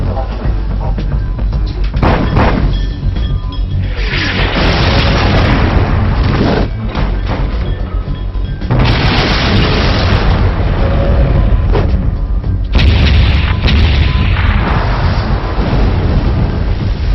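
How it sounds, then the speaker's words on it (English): Heavy artillery shell explosions boom in a few bursts beside a ship, each a loud deep blast that rumbles and fades before the next, with a narrator speaking over them. "The shells explode beside the target, spraying it with shrapnel."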